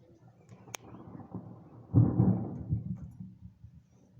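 Strong thunderstorm with a deep rumbling thunder roll that swells loudly near the middle and slowly fades, preceded by a brief sharp crack; no talking.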